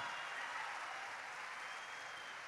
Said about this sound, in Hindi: जोरदार ताली बजा के इस बच्चे का उत्साह बढ़ाओ